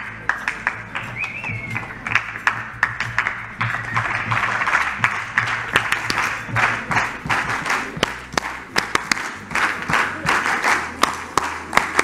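An audience in a lecture hall at a medical oncology conference applauds loudly and steadily, a dense wash of many hands clapping close by with occasional voices mixed in.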